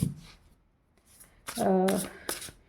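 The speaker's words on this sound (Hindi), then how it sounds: "3 कार्ड लेंगे, उसके बाद हम इस डेक से भी ले लेंगे।" A deck of cards is shuffled in quick riffled bursts, with a brief pause between them, then cards are drawn with light slaps; nearby and fairly quiet, with a voice speaking briefly.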